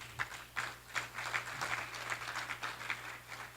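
An audience at a regional Black chamber of commerce gathering claps in a brief, uneven burst, with scattered hand claps sounding moderately close over a low steady room hum.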